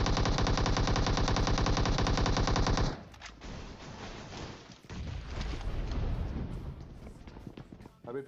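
MK14 rifle in the PUBG video game firing a rapid, loud sustained burst for about three seconds, then scattered single shots and distant gunfire over game ambience.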